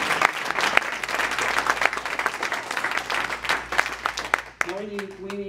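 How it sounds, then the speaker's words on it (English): A church congregation breaks into lively applause at a Sunday service, a thick crowd of hand claps with sharp individual slaps poking through, and a voice starts speaking as it fades at the end. "Let's give the Lord a round of applause before we pray"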